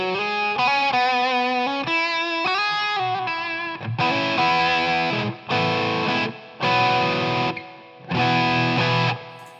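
Electric guitar on the bridge pickup through an Xotic Soul Driven overdrive pedal: a short melodic single-note phrase, then four loud, gritty strummed chords with brief gaps between them, up close and without talk.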